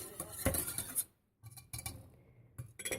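A coconut milk panna cotta mixture with agar is stirred in a pot, producing close utensil clinks and scraping taps in short bursts with a brief pause in the middle.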